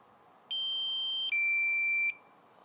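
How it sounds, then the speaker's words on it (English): A DJI Mavic Air drone gives its low battery warning: two clear, steady electronic tones in quick succession, the second pitched differently, each sustained under a second, with nobody speaking. "That beep is very annoying."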